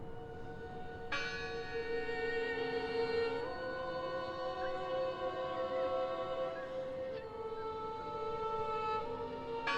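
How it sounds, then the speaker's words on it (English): A church bell tolls in the video game Draugen, several resonant ringing strikes with long humming decays overlapping one another, heard clearly and alone without speech. "I heard the bell."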